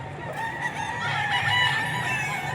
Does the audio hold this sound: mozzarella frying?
no